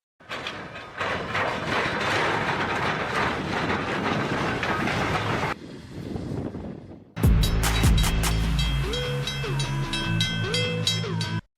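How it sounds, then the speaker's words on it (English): A locomotive plows through snow on the track, a loud rushing roar that drops away briefly before a heavy burst of clattering, rumbling sound returns and carries on to the end. "This locomotive looks terrifying as it sweeps tons of snow."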